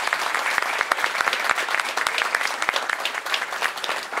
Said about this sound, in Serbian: Ja vas molim da ga jednim aplauzom